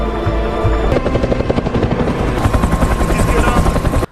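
A helicopter in an action film scene beats loudly and close, its rotor chopping in a fast, steady pulse over a heavy engine roar, ending abruptly with a cut.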